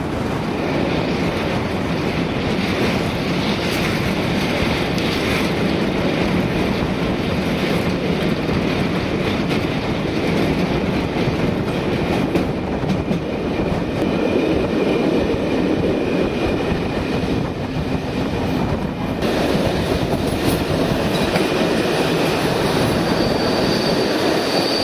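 Shuttle train pulling into Ústí nad Labem station, a steady loud rolling rumble of wheels on rails with faint squealing, close and continuous throughout with no voices.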